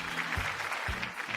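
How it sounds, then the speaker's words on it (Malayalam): Studio audience applause at a TV game show after a team wins, brief and moderately loud, with low rumbling hums beneath. "നല്ലൊരു കൈയടി"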